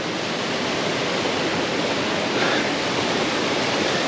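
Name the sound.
river rapids rushing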